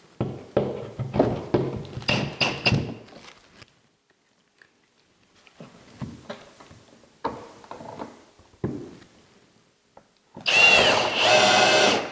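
A power drill drives screws into faux stone wall panels, with close bursts of gritty grinding and handling knocks, quiet gaps, then a loud sustained high whine at the end.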